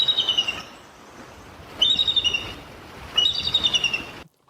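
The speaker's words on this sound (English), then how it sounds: "so here's the sound of a bald eagle" A bald eagle call played from a recording, heard as three bursts of high, thin, chattering piping notes, each a quick run of squeaky chirps, separated by brief pauses over a soft background hiss.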